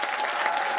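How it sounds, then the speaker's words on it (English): Audience applause at a Cannes Classics film screening, a dense steady patter of clapping from a large crowd, heard alone for under a second. "gardez les applaudissements"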